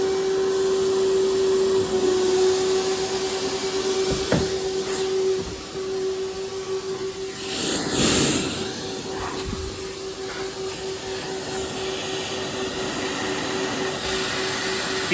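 A professional vacuum cleaner set to 3000 watts roars steadily and loudly, with a constant motor whine and airflow rush plus a few brief bumps and shifts in tone, and no talking.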